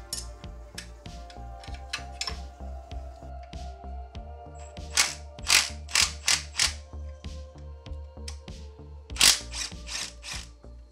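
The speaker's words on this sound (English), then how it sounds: "Now we can disconnect the 14mm bolt from the back of the starter motor." A ratchet working a 14mm bolt off the back of a Subaru twin-turbo starter motor, with rapid clicking bursts and metallic mechanical ticks over a low steady hum, close up.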